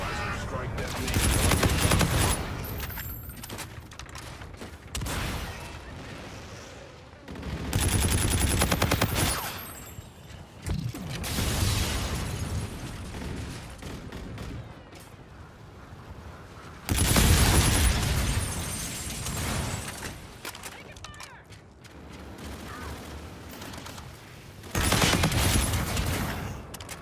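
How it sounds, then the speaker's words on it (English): De-Atomizer strike detonations in the Infinite Warfare shooter come in several long waves of dense, roaring bursts like rapid gunfire and explosions, each several seconds long, separated by quieter gaps with voices. "De-Atomizer strike detonation."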